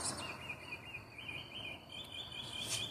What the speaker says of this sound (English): Are these bird noises real? It's like almost midnight.